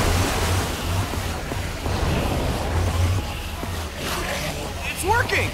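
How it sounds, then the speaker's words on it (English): In the video game Minecraft Story Mode, water gushes out after a lever is pulled, making a broad, steady rushing wash. A person talks over it throughout. "I don't know how much water this thing is gonna kick out."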